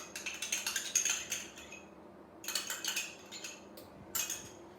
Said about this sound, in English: And you just mix all that up until it forms into a dough.